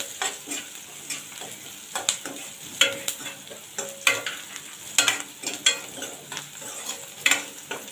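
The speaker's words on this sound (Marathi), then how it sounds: "दोन मिनटं कांदा जरा परतून घेते आधी" Onion and tomato sautéing in a pan for a Konkan-style black pea sambar, with steady soft sizzling and repeated stirring scrapes at a close distance, no talking.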